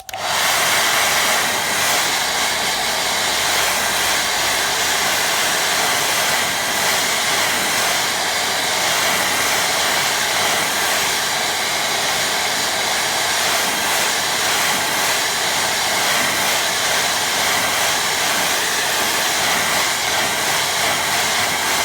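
A hair dryer blows steadily on a watercolour painting, a loud, continuous close-up whir and rush of air that holds unbroken for about twenty seconds.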